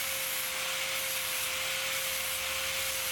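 Steady, loud abrasive hiss of a flat disc grinding the edge of a medieval-style folding knife blade, continuous and close, with a constant whining tone underneath and no talking.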